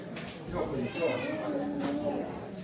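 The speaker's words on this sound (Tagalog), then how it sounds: "Ang cute ng pusa." A cat meows softly in the cold on Alishan mountain in Taiwan while people wait for sunrise. The mews are close and drawn out, mixed in with continuous nearby chatter.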